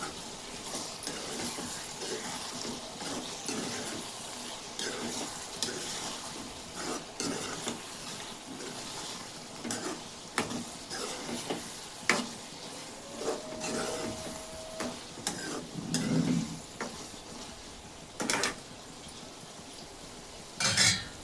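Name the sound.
stirring potato egg curry with turmeric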